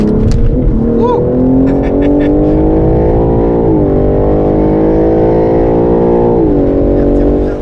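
A 2021 BMW M3/M4 Competition, 510 hp, drones loud and close at steady high revs on a race circuit, pitch climbing gently with brief dips at gear changes, filling the whole stretch.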